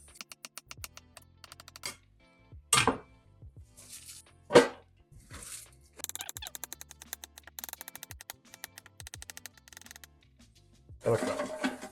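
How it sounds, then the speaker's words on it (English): Knife finely chopping raw cabbage on a cutting board, bursts of rapid crisp taps in quick runs with pauses between, close and fairly loud, with short spoken remarks in between. "we're just going to cut it down this side here like this, as finely as we can get it"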